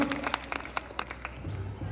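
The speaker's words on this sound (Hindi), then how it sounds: "एक बार मैडम के लिए जोर से तालियां, जोर से तालियां" Students at Lovey Public School in Geet Colony, Delhi, clap for a speaker, giving a brief burst of irregular claps that fades into room noise and low voices.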